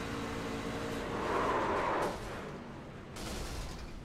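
A pickup truck, number 94, wrecks in a racing video game at Texas Motor Speedway, heard from onboard: a dense, loud crunching roar swells in the middle, eases, then picks up again toward the end.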